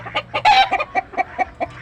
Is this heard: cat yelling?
no